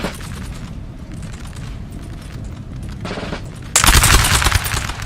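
Musket volleys crackle from a line of infantry in a Napoleonic Total War 3 mod multiplayer battle, a dense continuous rattle of many shots with a louder, fuller burst of massed fire near the end.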